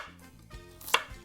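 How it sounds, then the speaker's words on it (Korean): A knife chops vegetables on a cutting board in a home kitchen, with a few soft, quiet taps and one sharper knock, close by and with no voices. "자, 이제 간단 도마 작업 해볼까요?"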